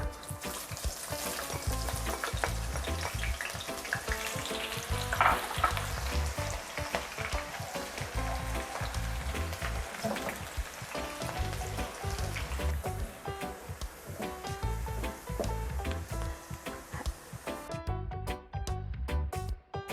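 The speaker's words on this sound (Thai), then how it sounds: "น้ำมันที่เหลือจากการเจียวหนังเป็ดเดี๋ยวเราจะนำหอมแดงและกระเทียมไปเจียวต่อเลยค่ะ" Shallots and garlic frying in leftover duck-skin oil, a continuous close sizzle with crackling pops and occasional stirring scrapes, with no talking.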